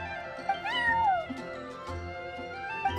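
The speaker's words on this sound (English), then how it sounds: "that's my neighbor's cat" A cat meows in the video game Genshin Impact, with a long rising-and-falling meow near the start followed by a few shorter mews over soft background music, fairly close and clear.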